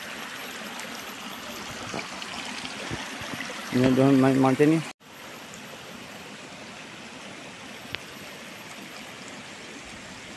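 Steady rushing flow of the Sungai Batu Putih river on the way toward Gunung Jerai, a continuous broadband wash of water close by, with a brief burst of talk partway through and the flow running on alone afterward.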